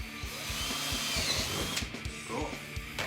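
A power drill set just below 8.5 bores into a Gamiviti rack case, giving a close, loud, steady whir with a grinding, pulsing low tone that briefly eases near the end.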